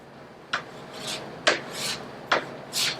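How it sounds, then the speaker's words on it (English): A plastic scraper drags across the waxed base of a snowboard in three firm strokes, each a sharp rasping scrape followed by a softer trailing rub, close and clear with no talk. "those are spots that you have to revisit with your scraper to make sure that you're taking it off as much as possible"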